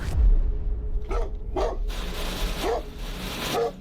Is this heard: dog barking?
yes